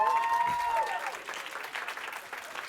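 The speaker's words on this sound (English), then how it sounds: "Give her a round of applause." An audience at an innovation pitch grand finale applauds a presenter, moderately loud clapping that follows a brief voice or tone at the start and continues steadily to the end.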